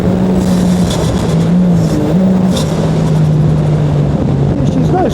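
A side-by-side off-road vehicle's engine roars loud and close, its pitch rising and dipping as it revs over rough ground, with a constant harsh drone from start to finish.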